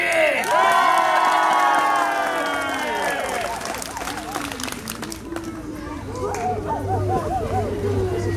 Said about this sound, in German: Also nochmal, Jubelapplaus für Nathalie!